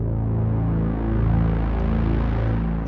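Omnisphere pads Big So Swell and Dark Pad stacked with low horns form a dense, dark orchestral swell, a thick low sustained drone that holds steady and loud throughout with no talking.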